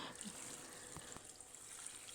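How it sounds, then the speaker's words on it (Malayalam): Water is poured into a pot over cut tapioca, a soft, steady splashing and trickling that stays faint and close throughout, with no talking. "ഇനി അതിലേക്ക് കുറച്ച് വെള്ളം ഒഴിക്കുക."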